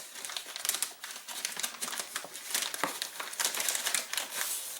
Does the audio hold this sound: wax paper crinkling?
yes